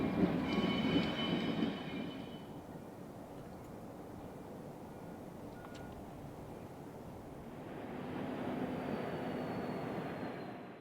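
A Union Pacific diesel locomotive switching freight cars in a rail yard on the Villa Grove Subdivision: a faint, distant rumble with a brief high wheel squeal early on, then the sound swells again toward the end.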